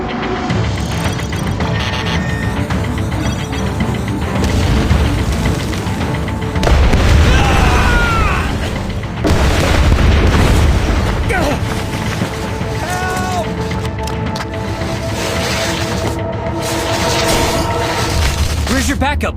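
A bomb explosion in the Tower of Fantasy video game, heavy booming rumbles and roaring blasts layered with game music and effects, with characters' voices speaking over it.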